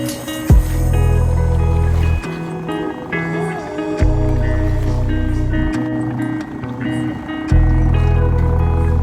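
A boat motoring on the water in Colombia gives a loud, deep rumbling drone with surging pulses of engine and hull noise, while someone talks over it.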